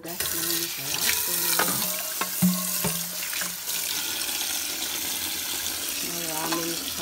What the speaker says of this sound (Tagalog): At ako ay maghugas ng plato.